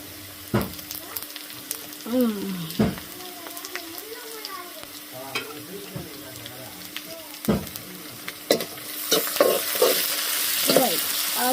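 Ginger paste is stirred into softened greens frying in a home-kitchen pan, giving a steady sizzle with scraping spoon strokes. Intermittent sharp clinks and a voice speaking over it run throughout.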